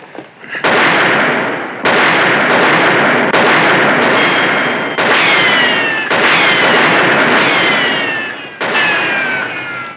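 Gunfire in a western TV episode: a rapid series of loud, sharp shots, around ten in quick succession, some with ringing ricochet-like tails, without talk.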